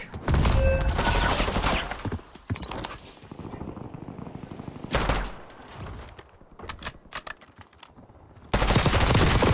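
Gunshots in a Call of Duty Resurgence match, heavy bursts of rapid firing that come in loud clusters with quieter pauses between, the final burst especially intense and close.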